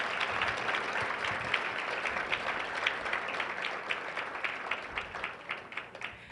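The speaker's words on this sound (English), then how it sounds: "Give them another round of applause." An audience at a Leo Club district event breaks into sustained, dense applause, many hands clapping evenly at a moderate distance throughout.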